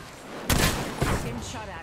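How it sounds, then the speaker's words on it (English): Gunfire in the video game Apex Legends, two sharp loud bursts about half a second apart, the second followed by a decaying tail over steady background noise. "Getting shot at."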